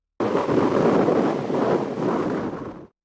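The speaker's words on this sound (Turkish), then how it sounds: "Bolu'da şiddetli rüzgar ve fırtına etkili oluyor." Strong wind from a storm in Bolu, Turkey, roars steadily into the microphone for about three seconds, a dense rushing buffet with no voices.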